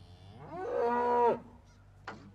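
A single long, loud cow moo swells and holds for about a second, cattle waiting to be fed hay on a muddy farm, followed by a short faint animal call after a pause.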